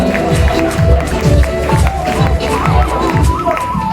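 Audience clapping in steady rhythm at a lively musical chairs contest, with a crowd murmuring and a voice urging everyone on over the beat.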